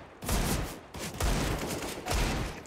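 Bursts of rapid gunfire from a CS:GO match on the Nuke map, three loud volleys in quick succession separated by brief gaps, close and punchy with no talking over them.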